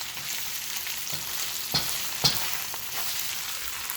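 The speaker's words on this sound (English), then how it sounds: "I'm frying the rice." Steady sizzling of wild rice frying in a hot pan, with a couple of sharp pops and light scraping, close and continuous.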